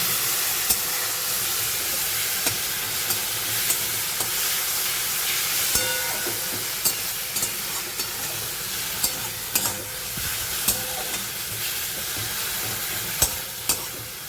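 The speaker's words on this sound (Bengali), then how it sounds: "এইভাবে বারবার নাকতে থাকবেন যাতে কড়াই না লেগে যায়" Continuous loud sizzling from a wok of drumstick leaves frying with onions, with repeated scraping and stirring clicks of a utensil against the metal.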